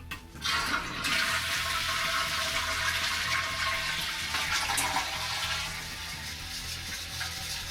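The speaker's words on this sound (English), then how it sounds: "it takes around a minute for it to flush, refill, and to become silent again" A toilet fitted with a Korky or Fluidmaster fill valve flushes with a loud close rush of water, then settles into a steady hissing refill that fades slightly toward the end, with no talking.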